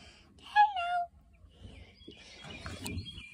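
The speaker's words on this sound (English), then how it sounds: "These are all my chickens." Backyard chickens give a short, close, high squawking call, then quiet clucks and scratching rustles follow at a lower level.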